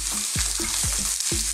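Chopped chicken breast fries with garlic and onion in a pan for Filipino chicken empanada filling, a steady loud sizzle broken by a few clanking stirs of a utensil against the pan, with no voices.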